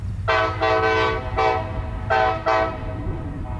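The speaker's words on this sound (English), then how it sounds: "a shave and a haircut salute from the train makes me happy" A freight locomotive horn on the Central Indiana & Western short line sounding a shave-and-a-haircut salute, five distinct blasts in that rhythm, fairly close and loud over wind noise.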